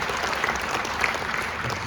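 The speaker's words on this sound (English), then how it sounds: "Let's hear one more huge round of applause for our great host of Hersheypark." An audience at a Hersheypark roller coaster enthusiast event bursts into loud, dense applause, a brief steady wash of clapping from a crowd.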